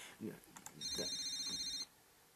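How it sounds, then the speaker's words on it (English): A cell phone in a video game gives a bright electronic ringing trill for about a second, with voices talking just before and during it. "A beeping noise suddenly emanates from Mrs. Arabazaki's pocket"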